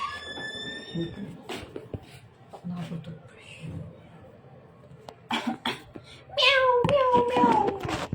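A cat meows several times in a short, high, rising-falling series, near and fairly loud, alongside coughing, knocks and a person talking.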